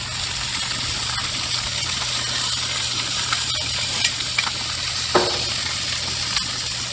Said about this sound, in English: We're going to mix it in with our onions and bacon.